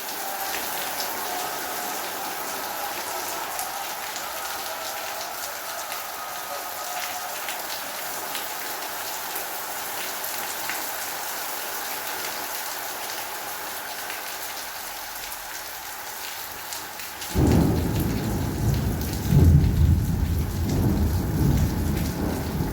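Heavy rain pours steadily on surfaces with rumbling thunder, and the downpour swells suddenly louder near the end, close and dense, with no voices.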